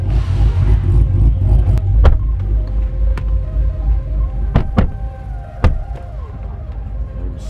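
Cadillac CTS-V engine rumbling loudly from inside the car during a ride, a deep steady drone with a few sharp clicks and creaks over it.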